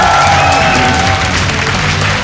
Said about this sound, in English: That audience, they will keep on cheering.